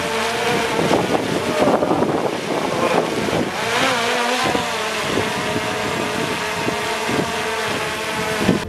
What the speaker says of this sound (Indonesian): Anginnya berubah terus.